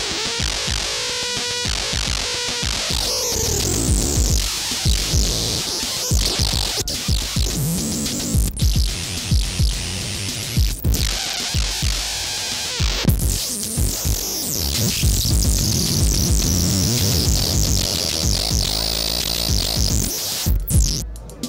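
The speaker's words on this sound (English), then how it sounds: "So with audio, just a simple drum machine pattern, and you can turn it into something completely different." A simple drum machine pattern runs through a feedback touch device, turning into dense, warped, throbbing electronic noise with sweeping tones, sharp cutoffs and bursts of static. It is loud and continuous with no speech.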